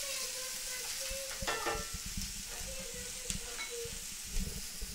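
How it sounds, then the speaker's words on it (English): A wooden spoon stirs taco filling in a frying pan over a steady sizzle, with a run of low knocks and scrapes against the pan, close and moderately quiet. "a little wooden spoon or what have you. Gonna give it a little bit of stir."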